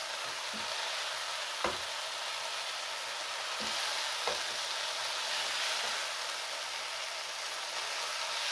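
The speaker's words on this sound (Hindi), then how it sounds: "तो हम जो ये सारे मसाले हमने थे इसमें ऐड कर देंगे ताकि मसालों के साथ चिकन थोड़ा सा भुन जाए।" Chicken browning with spices in a pan for chicken palak, giving a steady close sizzle broken by a few sharp clicks of a spoon stirring.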